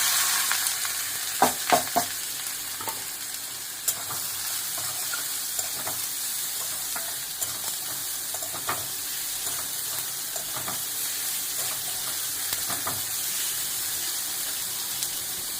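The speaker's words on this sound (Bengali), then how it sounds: "তো এখন আমি এই গরম তেলের মধ্যে এই পেঁয়াজ কুচিটাকে দিয়ে দেবো।" Chopped onion frying in hot oil gives a steady, close sizzle for the whole stretch, broken by a few sharp crackles and scraping stir sounds, with no talking.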